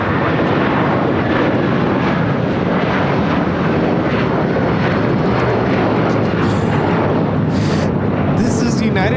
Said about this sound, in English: 1431 taking off to Honolulu on the 757-300